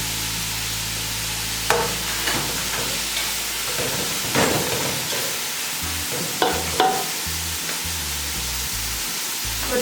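Rice with salt and black pepper stir-fried in a pan, a steady close sizzle with clustered scraping and tossing strokes of a spatula, loud and continuous, no voices.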